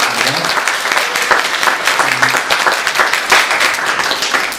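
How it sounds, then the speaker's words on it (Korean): A church congregation at a Sunday service applauds its new pianist with steady, dense clapping throughout. The applause is loud and close, and a few low voices are faintly audible underneath. "열심히 잘 해달라고 우리 박수를 보내드리겠습니다."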